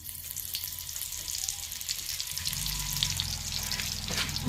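Garlic greens fry in a couple of spoons of hot oil in a village kitchen, a close, constant sizzle that deepens and grows louder about halfway through, with no talking.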